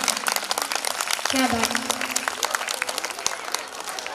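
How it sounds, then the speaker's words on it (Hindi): Devotees clap at a Khatu Shyam Baba darbar, a dense round of applause with crowd noise and a voice speaking over it, sustained for a few seconds. "तालियां बजाओ एक बार उसके लिए जिसने बाबा को सजाया है।"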